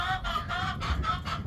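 Chickens cluck in repeated bursts after their chicken tractor is moved, a steady run of close, moderately loud calls with a rooster-like tone and no talk.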